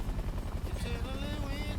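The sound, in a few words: helicopter in the video game War Thunder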